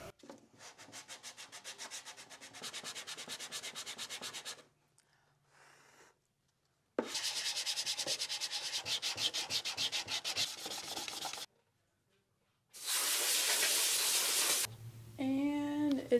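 Hand sanding of an engine intake manifold, masked off around the work area, in three bursts of rapid rasping back-and-forth strokes separated by short pauses, close and fairly loud, with a brief hiss near the end.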